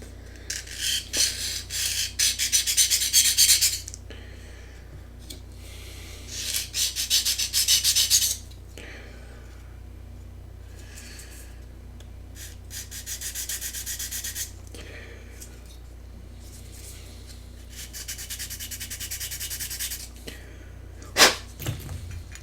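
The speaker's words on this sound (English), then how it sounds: "So I gotta sand it back." A part for an F-16 model is sanded back by hand, with several bursts of brisk back-and-forth rasping strokes, close and fairly loud, separated by quieter pauses and ending with a small knock.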